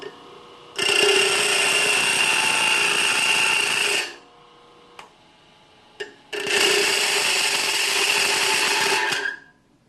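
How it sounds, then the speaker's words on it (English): A bench grinder grinds aluminum in a machine shop, giving two loud, steady high-pitched bursts of several seconds each. Between them comes a quieter gap with a few faint clicks. "the big no-no with grinders is grinding aluminum"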